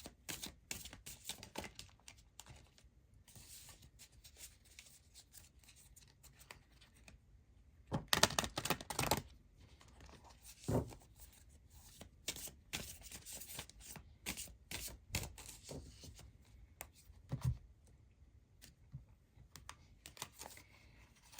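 Oracle cards from the Earthly Souls and Spirit's Moon Oracle deck being shuffled by hand, soft papery riffles and taps in irregular bursts with quiet gaps, close and alone with no talking.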